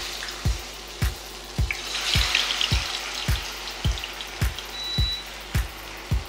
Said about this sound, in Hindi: तो अब हम इसे फ्राई कर लेते हैं।